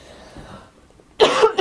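A man gives two quick, loud, close coughs in a burst after a near-silent pause.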